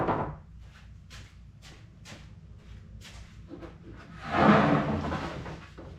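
A keyboard drawer on a newly built wooden desk slides open and shut several times in a row, a string of soft knocks and rubbing bumps capped by one louder, longer slide near the end, close by with no talking.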